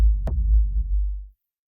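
A single deep synthesized rumble kick drum from the KickDrum plugin with negative pre-delay reverb, a sharp click atop a sustained low boom that swells and then cuts off after about a second.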